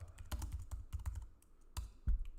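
Quiet clatter of keys on a computer keyboard comes in uneven bursts of quick taps with brief pauses, close and fairly soft, with no voice over it.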